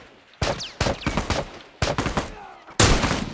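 Gunfire in The Last of Us multiplayer: four sharp, loud shots spaced irregularly, each followed by a short echoing tail, with no talk over them.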